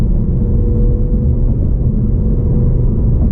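A 2021 Ford Mustang Mach 1 drives along in normal drive mode, easing through its gears. A steady, loud, low engine and road rumble fills the cabin without a break.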